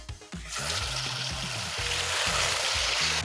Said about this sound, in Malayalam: ബാക്കിയുള്ള മീനും കൂടി ഇതുപോലെ വറുത്തെടുക്കുക